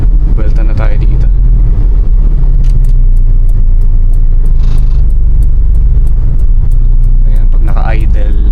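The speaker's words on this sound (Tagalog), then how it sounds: "pag naka-idle, mararamdaman nyo na manginig yung sasakyan" A Honda Civic with a VTEC engine and automatic transmission idles, its steady low rumble running continuously throughout, with speech heard over it.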